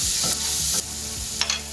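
A spatula stirs a pumpkin mixture seasoned with salt and black pepper in a sizzling pan for fried pumpkin balls, with a few distinct scraping strokes over a steady frying hiss.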